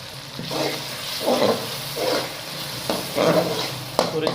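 Spinach gets stirred into a sizzling masala for roasted chana dal, each scrape of the spoon in the pan separated by short pauses while the frying crackles underneath.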